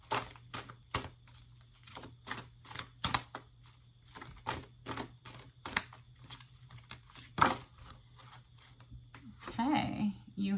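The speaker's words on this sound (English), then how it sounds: "please bear with me as I try to shuffle them" Large, oversized tarot cards are shuffled by hand in a rapid series of crisp, close riffling snaps and slaps, followed by a rougher burst of card handling at the end.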